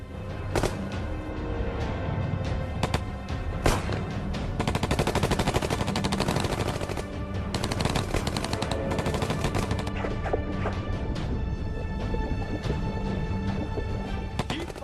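Dense, continuous gunfire rattles throughout as several guns fire rapid bursts that overlap into a loud, unbroken volley, with occasional louder single cracks standing out.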